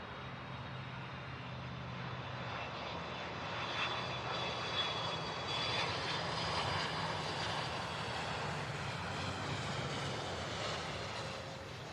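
An airplane lands at Louisville SDF airport, a distant, steady engine roar that swells in the middle and then slowly fades, heard alone without talk.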